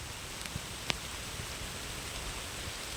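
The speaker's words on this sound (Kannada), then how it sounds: "ನೋಡ್ರು ನೆಲ ನೋಡ್ರು, ಮಳೆ ಮಳೆ ಸಾಯಕ್ಕೆ" Heavy rain falls on the ground outdoors, a steady wash of hiss with a few sharper drop impacts standing out, fairly faint and continuous, with no voices.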